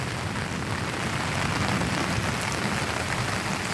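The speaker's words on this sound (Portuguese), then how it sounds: "Chuva forte." Heavy rain pours steadily in Itapura, São Paulo, a dense, constant roar of water hitting the ground with no voices and no break.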